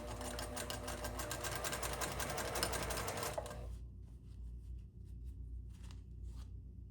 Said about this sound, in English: So I do a couple of stitches in place, and then I start stitching.